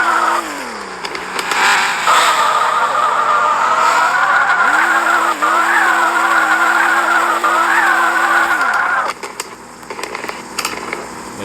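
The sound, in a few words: car drifting and swerving in slide mode in a driving video game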